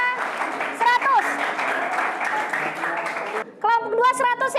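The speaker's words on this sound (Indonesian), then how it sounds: "Silakan tepuk tangan." Classroom applause for a student group's correct answers, a steady wash of many hands clapping with voices and cheers rising over it, breaking briefly before more clapping and chatter resume.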